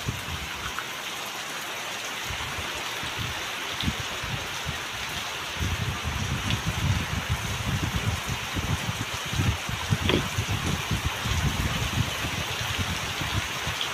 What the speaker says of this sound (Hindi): हेवी वर्षा हो